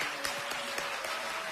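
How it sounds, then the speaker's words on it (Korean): Applause from the audience at a People Power Party campaign headquarters dissolution ceremony, a steady wash of clapping with a few sharper claps standing out, moderately distant and fairly quiet. "큰 박수 부탁드리겠습니다"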